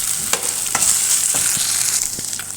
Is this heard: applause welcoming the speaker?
no